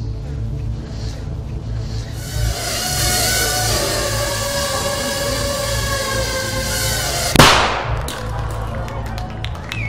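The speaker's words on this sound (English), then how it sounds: "That little bang is enough to penetrate the skull and destroy the contents" A small 3-gram shaped explosive charge detonates in a single sharp, loud bang that decays quickly, after a steady mechanical hum with rising tones.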